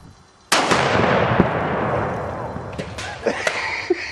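A vacuum tank explodes with a sudden loud boom that rolls into a long rumbling decay, followed by faint clanks and debris sounds as it settles.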